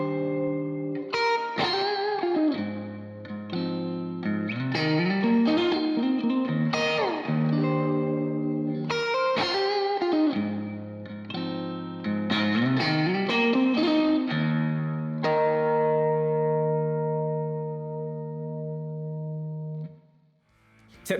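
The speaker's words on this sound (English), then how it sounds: "Hall style reverb." An electric guitar plays a melodic phrase with bends, wrapped in a long, lush hall reverb tail that lingers and fades out after the final chord.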